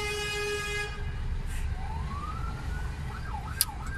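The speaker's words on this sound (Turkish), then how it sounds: "Arkamda da itfaiye var. Vıyı vıyı ediyorsun sen" A fire engine siren wails behind a truck on a very narrow road, a rising and falling electronic tone over the low rumble of the truck engine, with a short horn-like blast first and a sharp click near the end.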